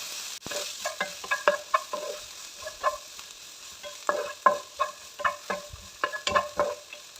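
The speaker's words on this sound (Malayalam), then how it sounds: "ഒരു മീഡിയം സൈസ് സവാളയും ഒരു രണ്ട് പച്ചമുളകും ചെറുതായിട്ട് അരിഞ്ഞതോടെ ഇട്ട് നമുക്കൊന്ന് ഇളക്കി ഒരു ചെറിയ ഗോൾഡൻ കളർ ആവുന്നവരെ ഒന്ന് ഇളക്കാം" Finely chopped onion and green chilies stirred in a pan for egg masala, with a soft sizzle under repeated clinks and scrapes of a spoon against the metal, close and fairly quiet.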